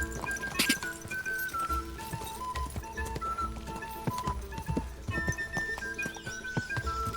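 Horse hooves clip-clopping at a steady walk with whinnying in Kingdom Come Deliverance 2, close and clear, with tonal game music or ambience underneath.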